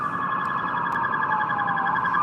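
Emergency vehicle sirens on the Las Vegas Strip wail in a loud, sustained tone that slowly bends in pitch, with traffic noise beneath them.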